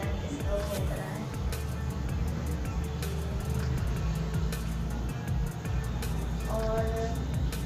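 Evening road traffic with many vehicles passing, a steady low rumble of engines and tires with occasional horn-like tones, heard at moderate distance.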